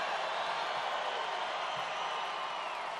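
A large crowd at a Donald Trump political rally cheers in a steady, unbroken roar that stays loud for the whole three seconds, with no single voice standing out.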